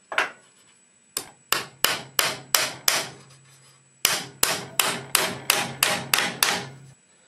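A hammer drives nails into birdhouse wood in two close, loud runs of sharp, evenly spaced strikes, about six blows and then seven, with a short pause between the runs.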